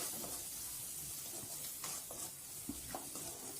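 Onions sautéing in a pan with salt and turmeric powder for sambar, a soft steady sizzle with occasional stirring scrapes, quiet and close, with no voices.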